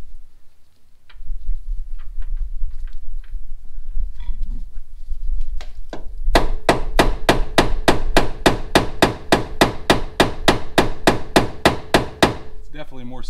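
A hammer pounds on a door hinge pin of a two-door Tahoe, starting with low rumbling and scattered taps, then a fast, steady run of about two dozen sharp metallic strikes, loud and close.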